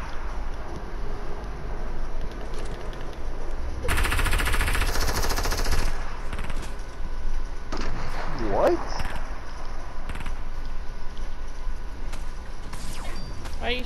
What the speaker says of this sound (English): Why are you shooting at me, my guy?